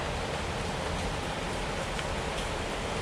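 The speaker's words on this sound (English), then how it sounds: "it's still raining outside." Steady rain falls outside, a continuous broadband hiss that holds even and unbroken for the whole stretch, with no voices over it.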